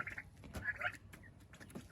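Soft, distant calls and gobbling-like clucks from two white turkeys feeding, over a low background rumble, several brief calls scattered across the clip.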